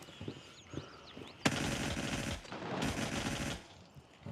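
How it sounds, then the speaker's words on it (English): Gunfire in the Gray Zone Warfare video game opens with a sharp burst, followed by two sustained stretches of rapid automatic fire, loud and close, with faint chirping beforehand. "turns out I'm getting shot at"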